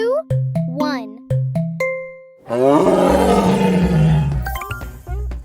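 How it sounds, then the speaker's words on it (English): A tiger gives a loud, rumbling roar that fills about three seconds, following a few short animated voice sounds at the start. "It's a tiger!"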